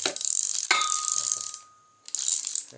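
A screwdriver bit is fitted into a toolbox screwdriver, giving a loud, close ratcheting clatter that runs about 1.5 seconds, pauses briefly, then resumes.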